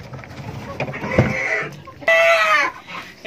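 A Fayoumi laying hen sits in a cage, clucking and rustling close by before letting out a louder, drawn-out squawk near the end, with some background noise around it.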